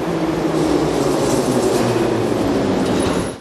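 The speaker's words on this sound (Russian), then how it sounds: "тематический поезд прибывает на одну из старейших станций метро в Самаре" A themed metro train arriving at one of the oldest stations of the Samara metro, a steady loud rumble of wheels and carriages rolling in close by, continuous throughout before easing off at the very end.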